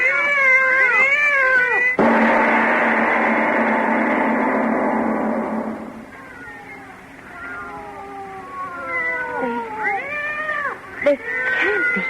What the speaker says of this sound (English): They're not ordinary cats.